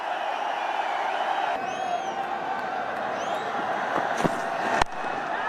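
A cricket stadium crowd roars steadily for a big shot by Shikhar Dhawan during an India run chase, a dense, continuous wash of cheering with brief sharper whoops and a couple of short sharp bangs near the end.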